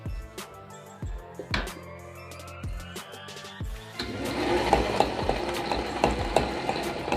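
An electric mixer blends cake batter with eggs, dark treacle and browning. A few sparse knocks and clatters come first, then a steady, whirring, churning noise starts midway and continues to the end, with no talking.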